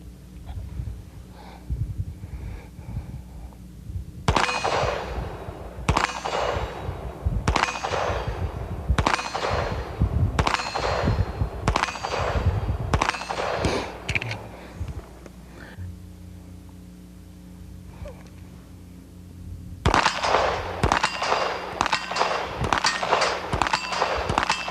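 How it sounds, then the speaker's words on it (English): .45 caliber automatic pistol fired at a rectangular target, a string of sharp loud shots in a steady rhythm with ringing decay, a pause mid-clip, then another rapid burst of shots. "Let's shoot a little group out there on that rectangle, and let's see just how inaccurate this gun really is."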